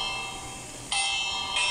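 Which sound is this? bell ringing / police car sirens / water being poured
bell ringing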